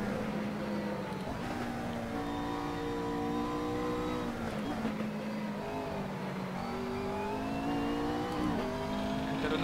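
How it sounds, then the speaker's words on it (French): A McLaren race car in Assetto Corsa, racing against a BMW M3 and Z4, drops gears with heel-toe blips; the steady engine drone dips and rises in pitch several times, loud and continuous throughout. "Un talonnage de boîte qui est très mauvais."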